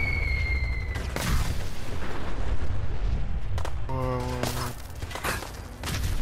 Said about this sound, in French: Docteur Son, il explose